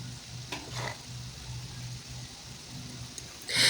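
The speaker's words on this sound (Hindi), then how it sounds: "यहाँ पे हम मीडियम फ्लेम पे ही इनको फ्राई करेंगे" Potato chips frying in oil over a medium flame give a soft, steady sizzle at low level with a faint hum beneath, a couple of light clicks, and a brief louder clatter at the very end.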